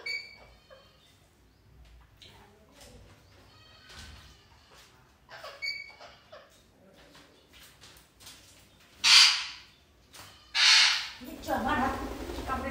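Two pet birds, Mithu and Bittu, squawk and screech in sharp loud bursts while quarrelling over their cage indoors, with quieter chatter and faint talking between the outbursts.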